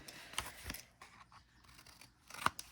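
A few quiet scissor snips cutting paper for a handmade password notebook craft, spaced-out crisp cuts with a sharper one near the end, close and faint with no talking.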